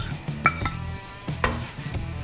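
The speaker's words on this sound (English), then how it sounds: "we cook it till the time our tomatoes don't lose their raw flavor" Tomatoes cooking in a pan for dahi chicken, made with little oil, sizzle steadily while a spoon stirs and scrapes in several distinct strokes, close and fairly loud, with no talking.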